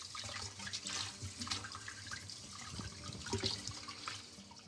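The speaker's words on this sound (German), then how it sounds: "spülen Sie das Fleisch gut unter fließendem Wasser ab" Tap water running over meat being rinsed in a sink, a quiet steady stream with splashes and trickles as the pieces are turned under the flow.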